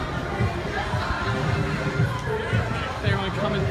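A large crowd at the Running of the Bulls in New Orleans, giving a steady, dense hubbub of chatter and scattered shouts that continues without a break.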